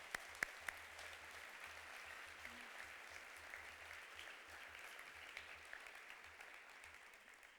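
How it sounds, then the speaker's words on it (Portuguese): A church congregation claps for the Lord, with a steady, fairly distant wash of applause that runs the whole time, a few sharp nearby claps at the start, and the clapping easing slightly toward the end. "Vamos dar um forte aplauso ao Senhor"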